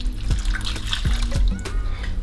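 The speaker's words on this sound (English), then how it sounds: "I'm just gonna put just a little bit more water" Water poured into a pot of yam pieces, a steady splashing stream with a few louder glugs and sloshes, close and continuous with no talk.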